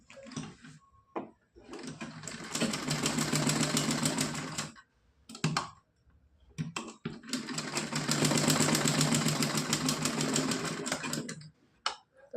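A sewing machine stitches fabric for a small Laddu Gopal dress, running in two long, steady, close whirring bursts of several seconds each, separated by quiet pauses and brief handling clicks.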